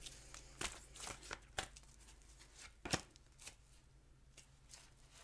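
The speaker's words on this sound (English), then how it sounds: "I'm shuffling your Angel Oracle cards" Angel oracle cards being shuffled by hand, a quiet run of soft riffling snaps and papery flicks in irregular bursts, close and alone with no talking.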